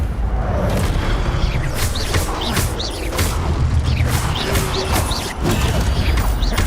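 Incendio fire spells blasting in the video game Hogwarts Legacy, loud booming bursts with crackling whooshes in quick succession over busy game sound.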